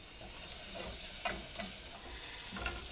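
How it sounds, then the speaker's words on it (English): Two tablespoons of butter melting in a medium pan over medium heat, a soft continuous sizzle with a few faint scrapes of stirring, close and quiet with no talking. "We're going to add 2 tablespoons of butter, start melting that."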